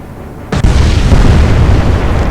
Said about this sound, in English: So that torpedo should hit.